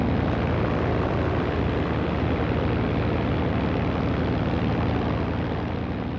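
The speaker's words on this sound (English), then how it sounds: "This is an RAF P-40 in North Africa in 1942." An RAF P-40 fighter flies over North Africa in 1942, its engine giving a loud, continuous, steady roar throughout with no voices.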